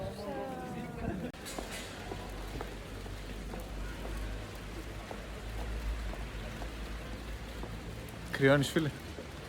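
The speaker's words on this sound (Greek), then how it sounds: "Τι μπορεί να πάει στραβά, λίγη βροχή είναι." Light rain falling outdoors during a cycling trip along the EuroVelo 6 route in Greece, a soft continuous patter under brief talk, with a louder burst near the end.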